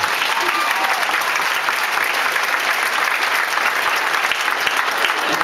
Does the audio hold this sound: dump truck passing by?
no